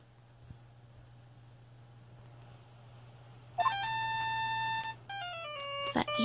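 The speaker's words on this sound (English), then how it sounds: "It's that evil ringtone." A cell phone ringtone from the Ace Attorney video game plays as a bright electronic melody of repeating beeping tones over a low steady hum, with a short pause in the middle and a clatter near the end.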